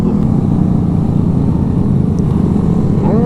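Motorcycles ride past in a group at a Grom day ride with police, making a loud, steady engine drone close by that holds throughout, with a brief higher rev near the end.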